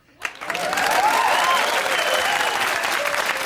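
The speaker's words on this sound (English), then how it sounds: "A round of applause for the post-war semi." Applause at a comedy variety show bursts in after a brief quiet moment, swelling quickly into loud, continuous clapping from an audience and holding steady to the end.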